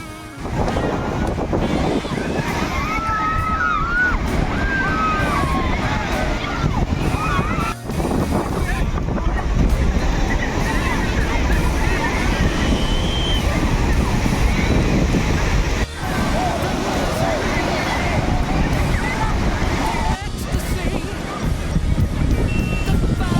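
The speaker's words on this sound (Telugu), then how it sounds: "అలల సౌండ్ అలా కాసేపు చూసి ఎంజాయ్ చేయవచ్చు" Sea waves breaking on Suryalanka beach near Bapatla, a loud continuous surf roar with wind that barely dips over the span, while faint voices and a few bird-like chirps sit under it.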